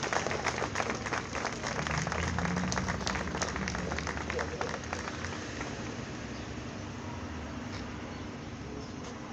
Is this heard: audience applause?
yes